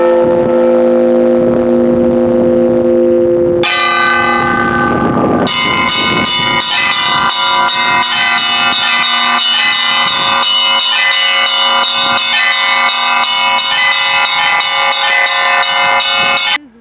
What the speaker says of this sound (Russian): Звон возвещает нам о том, что храм жив